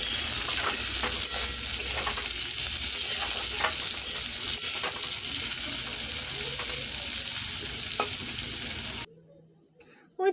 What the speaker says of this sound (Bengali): উচ্ছেগুলো আমার পুরো লাল লাল করে ভাজা হয়ে গেছে।